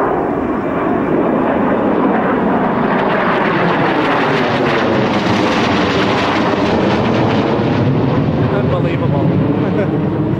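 A B-2 bomber roars past overhead in Colorado, a loud, sustained jet rumble that swells and fills the whole stretch without letup, with a few voices faintly mixed under it.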